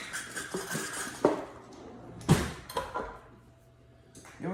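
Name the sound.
scraping down the sides of a mixing bowl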